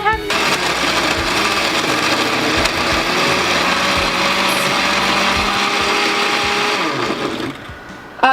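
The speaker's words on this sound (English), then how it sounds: "Make sure your blender is closed so that you don't cover your whole house in tomato." A blender pureeing tomatoes whirs loudly and continuously, its motor grinding with a rough mechanical churn, stopping abruptly near the end.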